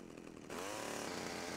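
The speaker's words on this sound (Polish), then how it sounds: "Piła jest super." A chainsaw in the video game GTA Vice City starts up and runs at a steady loud buzzing roar after a brief quieter moment.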